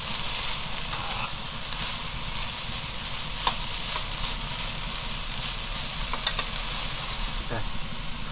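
Bellflower root stir-frying in perilla oil gives a steady soft sizzle and hiss from the pan, with a few faint clicks and scrapes of stirring over about eight seconds, close but fairly quiet.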